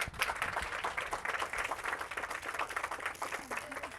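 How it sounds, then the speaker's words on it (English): A small workshop audience claps for a participant, a lively spread of individual hand claps, somewhat uneven and close, with a voice starting to speak near the end. "Give her a round of applause"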